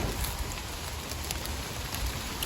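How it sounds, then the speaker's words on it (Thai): Steady rain falls outdoors during mushroom foraging in Thailand, a dense, even hiss of drops with no voices. "โอ้ยฝนตก"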